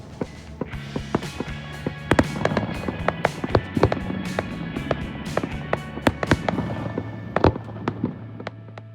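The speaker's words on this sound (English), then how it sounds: "I think those fireworks were definitely all for you, Steve." Fireworks crackle and pop repeatedly at irregular intervals, sharp bangs scattered over a steady background rumble.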